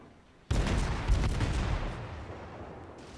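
An enemy warship's guns fire in World of Warships: after a quiet lead-in, a sudden loud salvo booms and rolls on with rumbling reverberation, slowly fading over two seconds.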